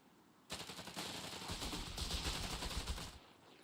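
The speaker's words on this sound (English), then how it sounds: "Taking heavy enemy fire here!" Enemy gunfire in a World War video game: a dense, loud burst of rapid automatic fire, several weapons together, lasting about three seconds before cutting off.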